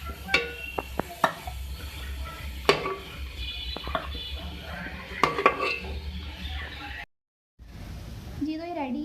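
Chicken curry being served out of a pan, with repeated scraping and clinking of a metal spoon against cookware over a low background hum and occasional talk.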